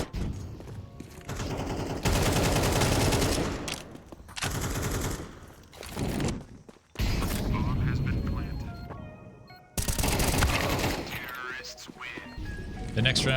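Rapid bursts of automatic rifle fire and gunshots during a Counter-Strike match between Mouz and Cloud9, loud crackling volleys broken by brief gaps, with a commentator talking throughout.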